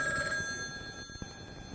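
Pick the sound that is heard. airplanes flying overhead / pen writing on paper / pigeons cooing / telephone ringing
telephone ringing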